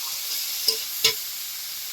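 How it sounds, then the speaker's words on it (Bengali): A mother stirs chopped banana flower in a pan over a soft, steady sizzle, with two brief scraping strokes close by and no voices. "মা কলা মোচাটাকে এবার ভালো করে নেড়ে নেবে"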